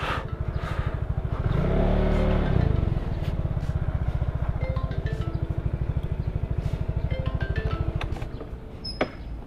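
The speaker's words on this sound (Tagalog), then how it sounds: "Tayo muna natin yung makina ng motor." A motorcycle engine fires up and settles into a steady, close idle with a rhythmic low putter, briefly swelling as it starts, then running evenly throughout with no talk.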